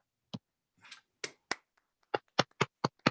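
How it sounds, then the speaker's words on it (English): Online meeting participants unmuting to applaud at a Toastmasters session, a sparse run of single, separate claps and taps from different microphones, close and dry with silence between them and no talking. "If everyone could unmute and give Troy a big round of applause."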